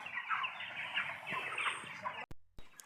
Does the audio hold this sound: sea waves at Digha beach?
no